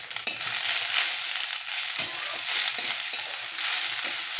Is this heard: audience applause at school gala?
no